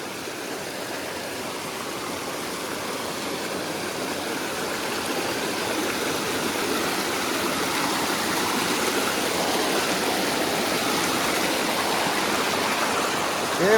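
A strong current of stream water rushes at a waterfall in Odisha, a dense, steady roar heard close up with no break, swelling slightly louder toward the end.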